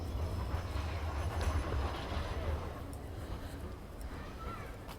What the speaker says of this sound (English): Another tram.